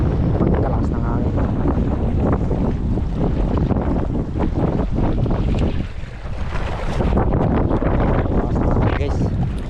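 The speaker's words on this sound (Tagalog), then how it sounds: "Pagkalakas ng hangin." Strong wind buffets the microphone in a steady, loud roar on a fishing boat at sea, with water and boat noise underneath and a brief lull in the middle.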